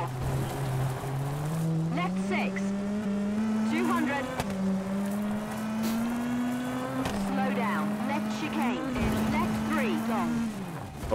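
A Ford Fiesta rally car in WRC 2 on the National Hellenic Rally stage, its engine droning steadily and climbing through repeated gear changes with brief drops between shifts, heard close and continuous under someone talking.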